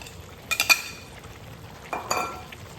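A spoon stirs pork stew with fried saba bananas in a pot, giving a few scraping clinks against the metal in two brief clusters over a low simmer.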